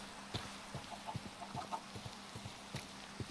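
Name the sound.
chickens clucking in the video game Minecraft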